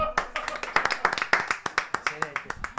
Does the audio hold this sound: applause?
yes